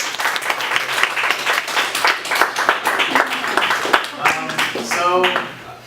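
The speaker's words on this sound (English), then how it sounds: "Can we give a round of applause to the candidates?" At a presidential caucus, a room of attendees claps for the candidates, the clapping loud and uneven with distinct individual claps, and a brief tonal sound near the end.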